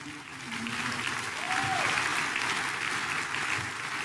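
A church congregation applauds, a steady, fairly close wash of clapping from many hands that swells and holds for several seconds, with a short voice tone rising briefly above it.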